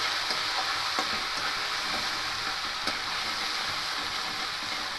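A ginger and green chilli paste is stirred into hot oil in a pan, giving a continuous close sizzle with light scraping and tapping from the spoon throughout.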